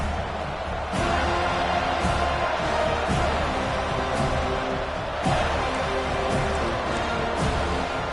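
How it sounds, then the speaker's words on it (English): Stadium crowd at a football game roaring a loud, sustained welcome for the visiting team, a dense wall of cheering with occasional sharper swells, heard from within the stands. "This crowd bringing an ear-splitting welcome to their visitors."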